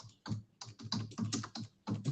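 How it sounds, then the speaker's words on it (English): Computer keyboard keys clatter in quick irregular bursts during an online meeting, close to the microphone and heard alone. "We can hear you typing."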